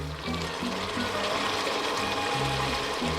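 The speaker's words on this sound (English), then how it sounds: "what I did find is just a random bit of brandy. So I'm going to give it a splash of this" Brandy splashes into a simmering amatriciana pasta sauce in a home kitchen, a steady liquid pour and sizzle lasting about three seconds at a fairly even, close level.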